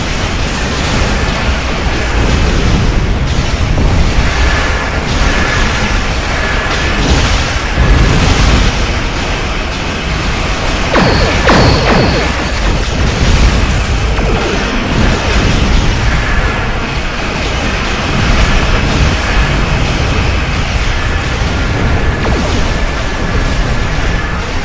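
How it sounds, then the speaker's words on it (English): Omega torpedoes firing and exploding in the space combat game Star Trek Online, heard as a loud, dense wash of booms and blasts that continues without a break, with brief sharper bursts layered over it. "The Omega torpedo does fire a lot faster."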